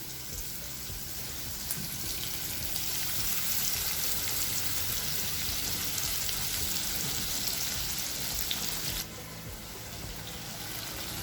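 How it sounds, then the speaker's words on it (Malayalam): Large prawns fry in a pan over low heat, making a steady, dense sizzle that fills the scene. It eases slightly near the end. "അപ്പോൾ ചെമ്മീൻ ഫ്രൈ ചെയ്യാൻ വെച്ചിട്ടുണ്ട്"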